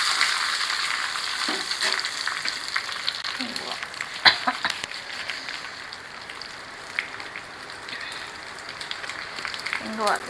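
A tempering of garlic, mustard seeds, cumin, dried red chillies and curry leaves crackles in hot oil for tomato dal, a steady sizzle with scattered sharp pops and spatters under a voice.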